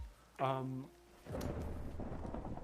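Video game weather thunder rolls in as a low, rumbling wash that builds and continues to the end. Before it comes a brief, tonal voiced sound, and the whole passage is faint.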